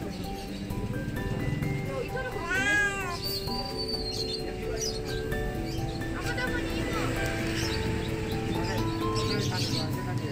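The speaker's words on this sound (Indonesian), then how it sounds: "yang ini ngeong-ngeong terus tuh" A cat at an animal market meows, with one clear rising-and-falling cry and softer repeats, amid chirping birds, other animal calls and busy market chatter.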